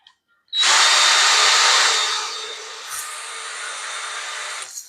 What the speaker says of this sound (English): I got my drill, and I'm just going to drill through